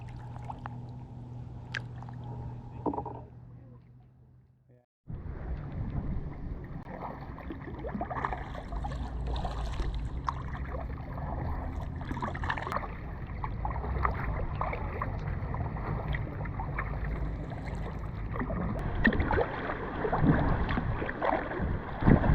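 Kayak paddling on a calm lake at Bass Lake Provincial Park, with soft steady water swishes and splashes and light wind rumble against the microphone, continuous for most of the stretch after a brief quieter start.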